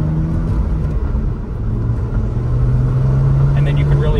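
A 2019 Porsche 911 Targa 4S engine rumbles close by as its turbo spools up, and the revs build toward a louder, rising whine near the end while a person talks over it.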